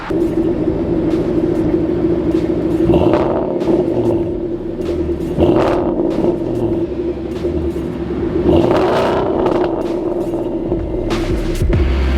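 A straight-piped 2014 Ford Mustang 5.0 idles with a deep, loud exhaust rumble, then is revved three times in quick surges that rise and fall back to a throbbing idle, heard close up with no talking.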